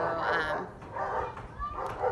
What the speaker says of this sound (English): the dogs are losing their mind over there.